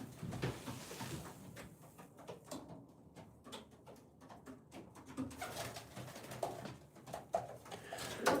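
Racing pigeons in a loft cooing softly and repeatedly, with rustling, shuffling and light knocks nearby, a busy close indoor bird scene without talk.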